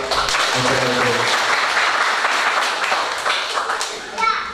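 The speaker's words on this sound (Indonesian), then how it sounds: "Tepuk tangan buat" Guests applaud at a wedding blessing ceremony, a full round of clapping that gradually thins out, with a speaking voice and children's voices mixed in.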